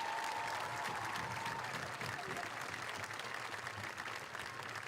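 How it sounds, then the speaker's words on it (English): An audience at a high school graduation ceremony applauds for members of the United States Armed Forces, a continuous, fairly faint wash of clapping heard from a distance. "Give one more last round of applause to the past, present, and future members of the United States Armed Forces."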